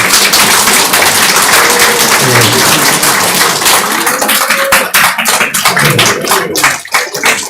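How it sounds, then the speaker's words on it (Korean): A church congregation at an Easter service claps together in dense, continuous applause that holds at a loud level for several seconds, thinning slightly near the end. "박수로 환영하겠습니다."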